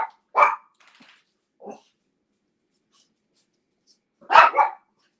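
Dogs stirred up at home barking in short bursts, one sharp bark near the start, a softer one mid-clip, then a louder double bark at the end, fairly close with quiet gaps between.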